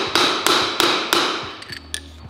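Four loud, evenly spaced metal hammer blows on a shaft of a BMW E36 car, sharp ringing impacts about a third of a second apart, followed by a few lighter taps and clinks, with no talking.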